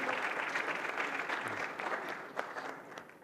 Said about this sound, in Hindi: तालियां बजाएं पूजा के लिए।